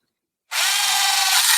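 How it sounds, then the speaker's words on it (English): A rounded milling bit used as a deburring tool at low speed on an enclosure panel starts abruptly and then holds a steady, close, high-pitched grinding whir. "I'm using this rounded milling bit as a deburring tool also at very low speed"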